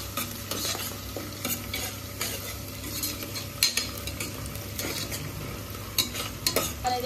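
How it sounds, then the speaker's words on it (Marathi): Chopped onion frying in oil in a home kitchen pan, a steady sizzle with repeated stirring scrapes and occasional utensil clinks, close and continuous with no voices. "कांदा ब्राऊन होईपर्यंत आपल्याला त्याला फ्राय करायचं आहे तेलामध्ये"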